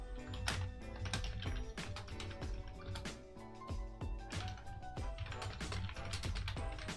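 Rapid, continuous typing on a computer keyboard with dense clicking keystrokes that run throughout, set against a steady tonal backdrop.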